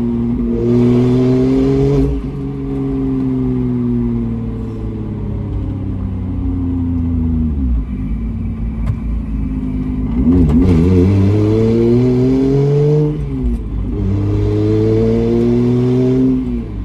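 A single-turbo BMW 335i drives over snow, its engine rumbling loudly and close with repeated rises and falls in pitch as it revs and accelerates, easing off midway before surging again.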